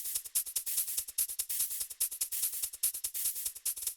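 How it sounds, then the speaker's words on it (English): A crisp electronic shaker loops in a steady, fast sixteenth-note rhythm, bright hissy hits repeating evenly with no voices. "I also made a shaker pattern"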